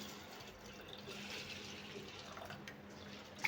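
Thick poha (flattened rice) is washed and rubbed by hand in water, giving a faint, soft sloshing and light trickling that continues quietly, with a small splash right at the end.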